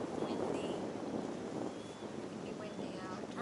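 Wind gusts buffet the microphone in a steady rushing roar, with faint higher whistles drifting through.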